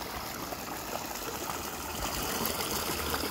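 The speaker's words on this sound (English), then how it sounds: "currently, water's flowing pretty good through here" A ranch stream runs at a good flow during peak runoff, making a steady, even rushing and burbling wash of water with no pauses.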